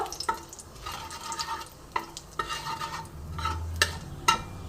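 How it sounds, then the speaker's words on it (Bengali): Black cumin seeds and two dried red chillies fry in hot oil, giving a soft sizzle broken by repeated stirring clicks and scrapes in a pan, close and moderately quiet, with a faint drip of water near the end. "এই তেলের মধ্যেই আমি সামান্য একটু কালো জিরে ফোড়ন দিলাম আর দুটো শুকনো লঙ্কা ফোড়ন দিলাম ফোড়নটা একটু ভালো করে ভেজে নেব"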